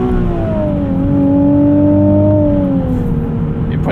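A 2020 Nissan 370Z NISMO engine blips up on a downshift from highway cruising, a loud, close rev that rises then sags back over a few seconds.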